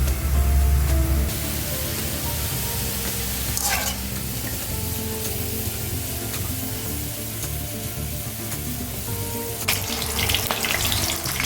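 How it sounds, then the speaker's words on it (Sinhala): Dried chili pods frying in hot oil for a Sri Lankan vambatu moju, a steady soft sizzle with faint stirring and scraping, close and unbroken throughout. "අපි අම්මිරිස් කරල් ටික තෙල්ලෙන්ද උඩම තියලා පොඩ්ඩක් බැදගමු"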